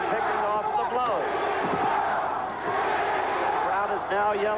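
A boxing crowd roars in a fight between Ken Norton and Jimmy Young, a loud, sustained wash of cheering and yelling, with a commentator talking over it.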